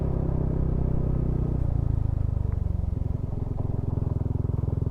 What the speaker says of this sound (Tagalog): tingnan natin yung kaya ng motor natin to pabigat